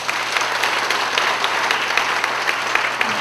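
An audience at a closing worship service of a national pastors' summer seminar claps for the worship singers, a steady, dense wash of applause sustained throughout.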